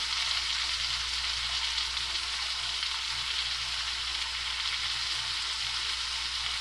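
Steak sears in a hot pan with a loud, continuous sizzle that stays even and close throughout, with no talking.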